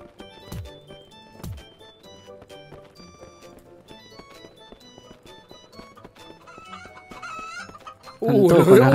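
Chickens in the video game Who's Who cluck in short, scattered bursts over a quiet background of soft game sounds, with a couple of thumping footstep-like hits early on and a sudden loud noisy burst at the very end.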